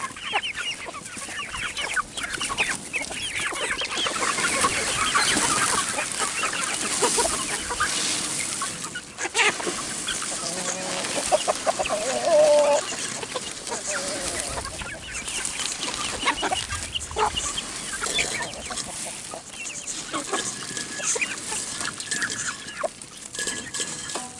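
Backyard chickens cluck and chatter at moderate distance amid outdoor farm ambience, with scattered soft calls continuing throughout and no talk over them.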